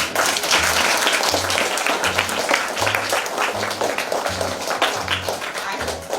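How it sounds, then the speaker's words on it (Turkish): A group of schoolchildren claps and applauds for a special-needs student in a classroom, a dense continuous burst of close hand claps with voices mixed in, and a rhythmic beat running beneath. "kocaman bir alkış yapalım"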